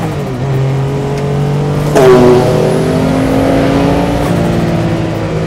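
Porsche 962 Le Mans race car engine pulling hard under throttle with long gearing. A loud droning roar climbs steadily in pitch, with a brief shift-like change midway, heard close from on board.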